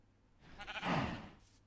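A single sheep bleats in Minecraft, a faint, wavering mid-pitched call that swells and then fades over about a second, with nothing else around it.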